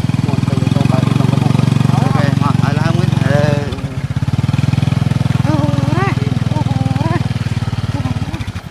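A scooter engine idles and revs steadily with a loud, buzzing mid-pitched drone while monkeys ride on it, a short dip midway, and high chattering calls that sound like monkeys rise above the motor.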